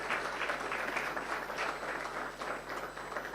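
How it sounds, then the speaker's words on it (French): An audience at a conference hall applauds the host, steady, even clapping from a large crowd sustained throughout at moderate loudness. "j'invite l'assistance de pouvoir applaudir"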